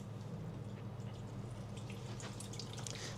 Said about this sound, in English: as you pour this water in there